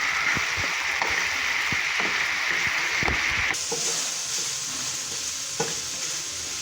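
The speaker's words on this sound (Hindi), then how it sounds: "तो चिकन ने थोड़ा सा पानी छोड़ा है, इसको ड्राई होने तक पकाएंगे।" Chicken fries in a pan with a steady bright sizzle, while a spoon scrapes and stirs in irregular knocks; the hiss drops slightly partway through as cooking continues.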